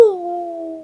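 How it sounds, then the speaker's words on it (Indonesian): A single wolf-like howl from a haunted mountain setting on Gunung Andong, a sustained wavering tone that starts sharp and holds steady for under a second, loud and close with no talk over it. "Kalau yang lolongan serigala itu semuanya dengar"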